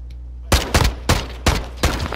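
Shotgun fire in Call of Duty Modern Warfare 2 on PS4: five loud, punchy blasts spaced roughly a third of a second apart, each with a heavy low thump and short tail over a steady low hum.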